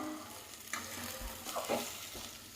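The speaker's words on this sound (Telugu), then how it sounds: "ఆనియన్స్ బ్రౌన్ కలర్లోకి వచ్చే వరకు ఫ్రై చేసుకోవాలి" Onions frying in hot oil until brown for a prawns fry, a soft steady sizzle with a few stirring scrapes, fairly faint and without talk.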